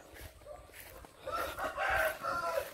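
Chickens in a big rural garden with a rooster crowing, drawn-out crowing calls rising in the second half over quieter clucking and scattered background noise, moderately distant and fairly faint.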